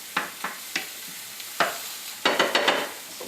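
Cabbage cooking down with Worcestershire sauce in a hot pan, a soft steady sizzle broken by sharp spatula scrapes and taps, several quick strokes clustered toward the end.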